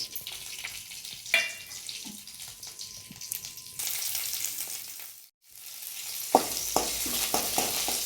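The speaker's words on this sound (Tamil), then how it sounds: "ஒரு கடாயில் எண்ணெய் ஊற்றிருக்கேன். கடுகு, வரமிளகாய், கருவேப்பிலை" Mustard seeds, a dried red chili and curry leaves sizzle in hot oil in a kadai for a tomato pachadi tempering: a steady close frying hiss with scattered crackles, a brief hush midway, then sharper popping bursts.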